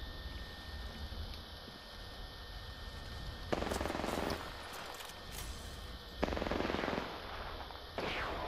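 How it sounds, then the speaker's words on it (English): Gunfire in the battle-royale shooter Apex Legends: two loud bursts of rapid automatic fire a few seconds apart, then a shorter burst, over a steady low background hum. "Who's shooting?"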